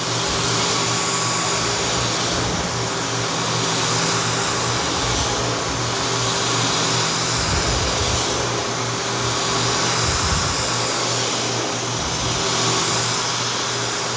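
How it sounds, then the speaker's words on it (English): Dyson V10 cordless vacuum working over heavily soiled carpet, a loud steady motor whine with gently swelling and easing airflow as the head moves back and forth. "You can hear all the dirt and the grime getting sucked up out of these carpets."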